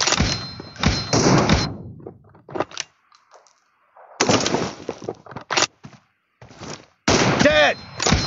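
Gunfire in the video game PUBG (PlayerUnknown's Battlegrounds): several loud, sharp bursts of shots separated by brief quiet gaps, with clattering game sounds between them.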